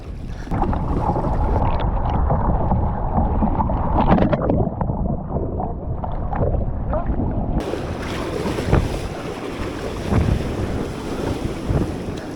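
A kayak is towed and paddled through rough open water, with wind roaring across the microphone, waves slapping and splashing around the hull continuously and loudly.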